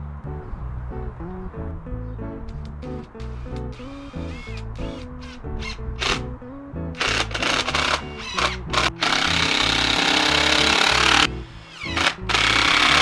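A power drill drives screws into a wooden screen door latch, with short whirring bursts and handling clicks followed by longer, louder drilling runs close by, with no talk.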